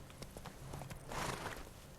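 Horse hooves clip-clopping in The Witcher 3 video game, a steady walking rhythm of soft hoof falls over a continuous ambient game background, moderately close and not very loud.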